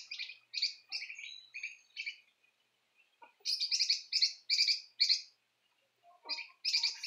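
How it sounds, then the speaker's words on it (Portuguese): Several birds sing in the countryside on a rural smallholding, with clear bursts of bright chirping and tweeting in groups separated by short quiet gaps, close and distinct with no voices. "Os pássaros cantando."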